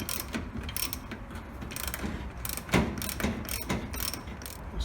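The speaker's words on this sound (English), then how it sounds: "We're going to take this big nut loose." A ratchet wrench clicks in quick uneven bursts while loosening a big nut on the springs of a 1977 Ford F150, close and sharp with metallic ticking and clanks, no talking.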